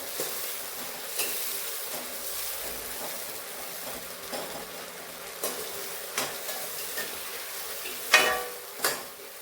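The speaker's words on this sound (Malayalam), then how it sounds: "ഇനി ഇത് കുറേശ്ശെ ഇട്ട് വറുത്ത് പോരാം." Soursop pieces fry in hot sesame oil for a pickle, giving a continuous soft sizzle with occasional stirring scrapes and a couple of sharper utensil clinks near the end.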